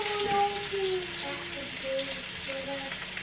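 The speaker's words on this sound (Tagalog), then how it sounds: "Nagigisa na ako ng mga sibuyas para sa afritada." Onions sautéing in a pan for Filipino afritada give a steady, close sizzle and crackle that runs without a break, with a faint tonal hum in the background.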